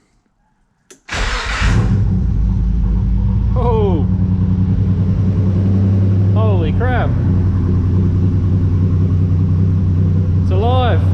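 Nissan Navara with a VG30 engine and new turbo fires up for the first time with no muffler: a loud close cranking catch into a deep rumbling idle, with excited shouts over the engine.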